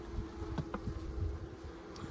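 Honeybees buzz at an open hive in late fall, a steady low drone of many insects with a few louder passes close to the microphone.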